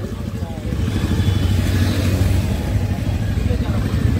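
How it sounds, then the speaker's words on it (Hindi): A KTM 200 motorcycle riding past on the road, its engine a steady loud drone that builds and holds for several seconds, close by and heard over wind and road noise. "भाई यार अपने साथ एक और बाइक आ चुकी है, आप लोग देख लो KTM"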